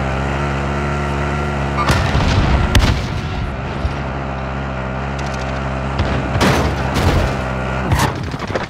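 Bursts of gunfire from the Warzone video game, likely an MP5, booming shots in several clustered volleys over a low rumbling game background, loud and close.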